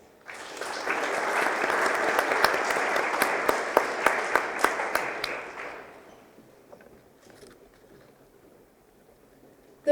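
Sustained applause from an audience at a school award assembly for students, steady and fairly close for about six seconds with a few sharper individual claps, then fading to quiet room noise.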